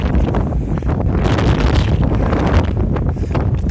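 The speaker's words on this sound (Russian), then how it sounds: "Ветер какой." A strong, cold north wind near the sea at Anapa buffets the microphone with loud, continuous rumbling gusts and roaring, rising and falling slightly but never stopping.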